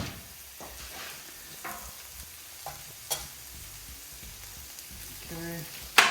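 Mushrooms and vegetables sizzle in oil on a Camp Chef flat top griddle, a steady close frying hiss with occasional scrapes and stirring clatter, and a sharp metallic clink at the end.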